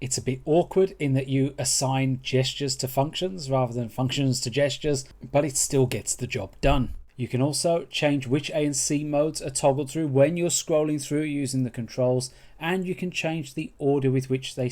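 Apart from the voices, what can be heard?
No distinct noise like a dog, phone or traffic.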